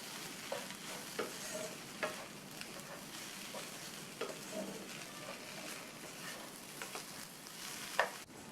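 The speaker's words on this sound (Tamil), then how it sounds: "சேர்த்துட்டு நல்லா எல்லாம் ஒன்றா மிக்ஸ் ஆகிற மாதிரி கலந்து விட்டுறணும்" Raw banana pieces with ground spice powder and salt are stirred in a pan, giving a quiet steady sizzle with soft scraping strokes and an occasional light clink, no voices.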